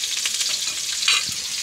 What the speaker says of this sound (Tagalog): Gigisa natin sandali itong tuyo natin.